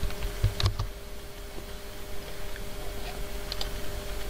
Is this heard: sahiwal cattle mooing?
no